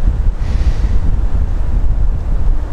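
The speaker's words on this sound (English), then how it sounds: "with this wind and stuff it is horrendous" Strong wind gusts across a lakeside fishing spot in autumn, a loud, constant low roar of wind battering the microphone, swelling and easing slightly but never letting up.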